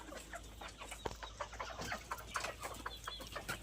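Several native chickens cluck and chatter close by in a busy, continuous stream of short calls while being fed.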